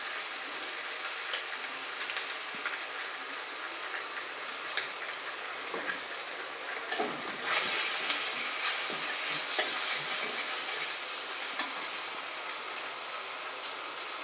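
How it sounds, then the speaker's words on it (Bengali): Bay leaf, ground cumin and turmeric fry in hot oil in a pan, giving a steady, soft hiss with scattered faint crackles and small pops throughout, no voices. "এই তেলের মধ্যে দেওয়ার পরে একটু ভেজে নেব।"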